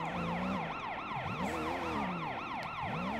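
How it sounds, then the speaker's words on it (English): Police car siren in the video game Sleeping Dogs, a rapid wailing yelp that sweeps up and down in quick repeated cycles, loud and steady throughout with game engine noise beneath. "Sound of the police."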